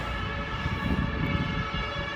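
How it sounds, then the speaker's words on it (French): A procession of emergency sirens, one of them from a police car, wails steadily through the street, loud and sustained with layered rising tones and a low traffic rumble beneath. "il y a un cortège de sirènes là"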